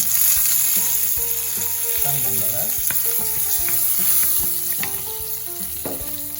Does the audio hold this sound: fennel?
yes